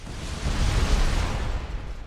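A deep, rolling explosion booms in the video game Spider-Man: Web of Shadows, swelling quickly and then fading over about two seconds, loud and close with no talking.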